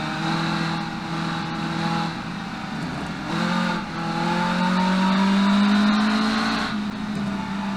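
A 1990s supercar's engine in the game Automation drones and revs, its pitch climbing and dropping as it shifts through gears on a track, loud and continuous with no talking.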